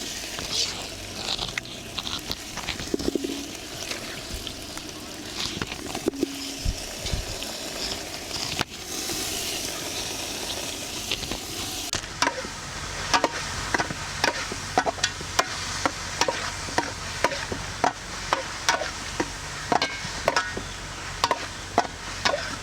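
Marinated chicken going into a pan for chicken kulambu, with rustling, clinks and stirring scrapes followed by a steady sizzle and a run of regular spoon knocks against the pan.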